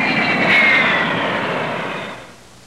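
A USAF F-102 jet roars past at close range, a loud broadband rush that swells and then fades away, with no voices.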